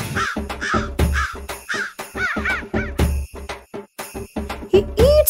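Crows caw repeatedly in short, harsh bursts, loud and close, with brief pauses between calls.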